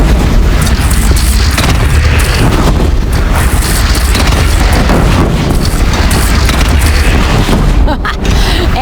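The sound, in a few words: cannon fire in video game Horizon Zero Dawn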